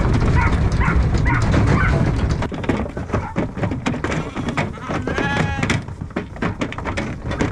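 A flock of beef sheep bleats loudly and continuously nearby, many overlapping calls filling the scene, with a dog barking in the mix and some rustling movement.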